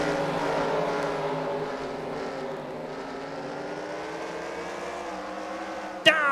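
Dirt race cars in the NASCAR Racing 2003 video game at a Chili Bowl Nationals event roar together in a steady, droning pack of engines whose pitch slowly shifts, ending with a brief sharp crack.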